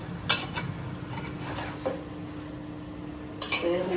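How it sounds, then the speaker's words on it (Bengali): A spoon stirs prawn masala with vegetables in a pan, scraping and clinking against the metal in a few bursts over a soft steady sizzle. "এখন আমি সব কিছু মিশিয়ে দিলাম"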